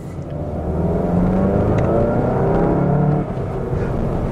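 A 2018 Volkswagen Golf Mk7.5 GTI accelerating on the road, a steady engine drone with rising tones as it pulls, fairly loud and close, holding for a few seconds then easing off slightly.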